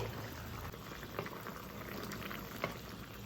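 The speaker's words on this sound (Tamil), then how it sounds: "இப்போ ஒரு வாட்டி ஓப்பன் பண்ணி பார்க்கலாம் நல்லா கொதிக்க ஆரம்பிச்சிருச்சு" Quiet, continuous bubbling of a pot of bottle gourd curry at a steady simmer, with soft pops and crackles rising through the low rush.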